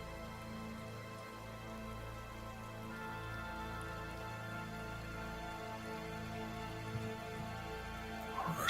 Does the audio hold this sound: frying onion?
no